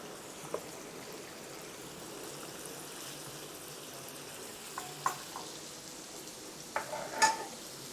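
Ginger garlic paste hits hot cooking oil alongside half-cooked boneless chicken for a white karahi, giving a steady, soft, low sizzle with a few brief clinks and stirring sounds near the end.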